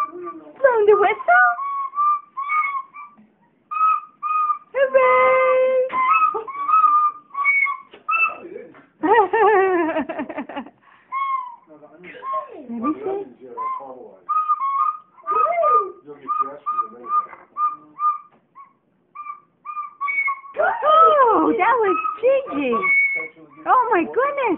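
Young children blow on recorders, producing shrill, wavering whistle tones in short repeated bursts, close and loud, while adults and children talk and cheer around them.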